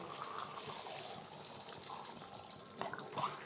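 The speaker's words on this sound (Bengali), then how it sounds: "এর ভেতরে আমি দিয়ে দেব এক বাটি পরিমাণ জল দিয়ে দেব যাতে একটু গ্রেভি গ্রেভি হয়" A bowl of water is poured into chilli chicken cooking in a pan, a continuous close splashing and gurgling pour that lasts the whole stretch with a few louder splashes near the end.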